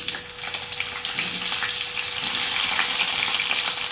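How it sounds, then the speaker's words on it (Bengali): Potatoes fry in hot oil in a kadai wok, giving a loud, steady, hissing sizzle that runs unbroken from start to finish, with no talking. "সেই তেলের মধ্যে আমি এখানে আলুগুলো ভেজে তুলে দেবো লাল লাল করে।"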